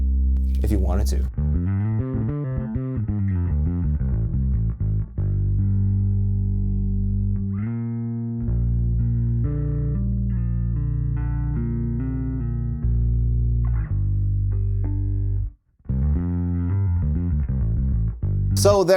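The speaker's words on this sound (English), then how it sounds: "that's the Kaamos from Darkglass Electronics" Bass guitar played through a Darkglass Electronics Kaamos distortion pedal, a steady run of loud, thick sustained notes with mellow grit and chorus-like shimmer, broken by one short dropout near the end.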